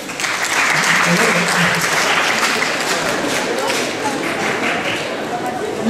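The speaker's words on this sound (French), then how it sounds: "applaudissez-vous vous-même" A crowd at a law school event claps for itself, with dense, steady applause running the whole six seconds under a faint murmur of voices.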